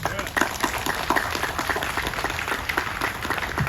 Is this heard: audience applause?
yes